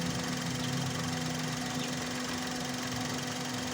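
A car engine with a misfire idles steadily up close, a constant low hum with a faint rattling vibration and no talking.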